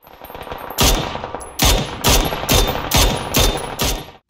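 Mini 14 rifle fire in the video game PUBG, a run of about seven loud, evenly spaced shots following a softer lead-in.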